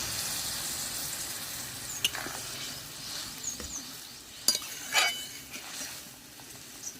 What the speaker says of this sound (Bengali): ঝোলটা ফুটে গিয়েছে।